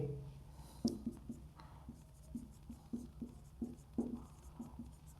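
Pen or chalk writing by hand during a Hindi classroom lesson, a series of short scratchy strokes in irregular bursts, close and fairly quiet, with no one speaking.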